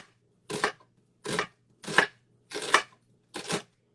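A knife chops red onion on a board in five separate, evenly spaced strokes. Each cut lands crisply and close by, with short silences between them and no one talking.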